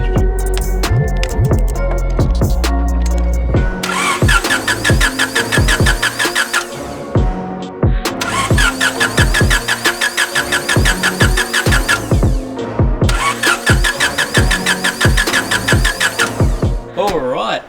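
A Honda Integra engine is cranked over with the spark plugs removed for a compression test, the starter churning in a fast, even rhythm across three separate bursts of several seconds each, loud and close.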